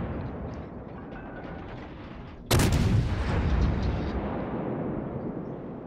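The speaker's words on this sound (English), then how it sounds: "I'm going to start putting some shots into this Nagato." A single heavy naval gun salvo from the battleship HMS Nelson in World of Warships, fired at a Nagato: a sudden loud boom over a low ambient rumble, followed by a long rolling decay.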